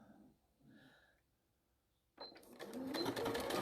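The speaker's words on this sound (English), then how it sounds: "Just stitching that in and then needle up." A domestic sewing machine stitches fabric for crazy patchwork, starting abruptly after a quiet pause with a fast, steady mechanical whirring and clatter that grows louder toward the end.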